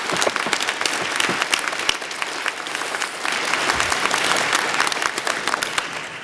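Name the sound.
audience applause at convocation ceremony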